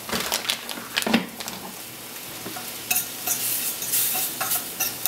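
Roasted red pepper sauce with a dab of vinegar is stirred in a pan, giving continuous close scraping and wet sloshing with a light sizzle, several sharper knocks early on and no voices.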